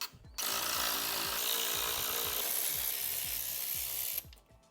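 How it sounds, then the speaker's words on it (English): A power tool rapidly spins out T25 Torx bolts from the intake manifold of a BMW E46 engine, a loud, dense buzzing burst of about four seconds with rapid ratcheting pulses, then abruptly stopping. "It's held in by T25 Torx bits. So I'm just gonna try to blast these guys off real quick"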